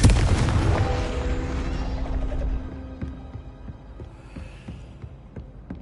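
A Confringo fire spell blasts in the Hogwarts Legacy video game, a loud booming explosion with a rumbling low-end tail that slowly fades, followed by scattered faint impacts and crackles.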